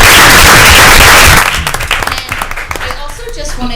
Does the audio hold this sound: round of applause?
yes